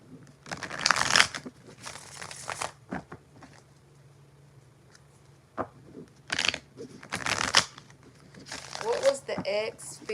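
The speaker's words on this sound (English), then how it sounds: "4 shuffles for Wendy." Tarot cards shuffled by hand in several separate bursts of papery riffling and rustling, close and crisp, with quiet pauses between the shuffles.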